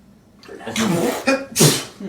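A single sharp sneeze with a breathy intake just before it, close and loud, followed by a quieter second burst.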